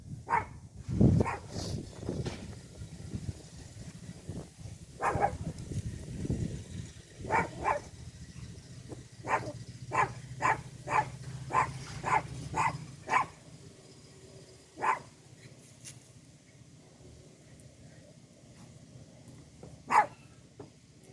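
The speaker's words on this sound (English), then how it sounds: "Dog sees a squirrel." A dog barks at a squirrel outdoors near a container garden, giving a long run of sharp, evenly spaced barks with a few louder bursts and some pauses between.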